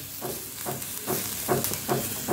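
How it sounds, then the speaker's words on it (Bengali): Food fries in a pan while being browned for an egg dish, a continuous soft sizzle with rhythmic scraping strokes of stirring about every half second, close and moderately loud. "এটাকে দেখো ভাজা ভাজা করে নিয়েছি, একটু লালচে মতো হয়েছে"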